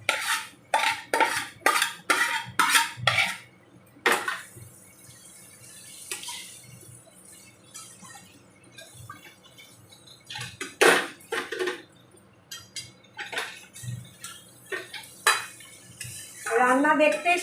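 Metal utensil scraping and clinking against a pan while fried potato and coconut are stirred in for a vegetarian ghugni with onion; rapid clatter early, then sparser scrapes and knocks, with a burst of clinking at the end.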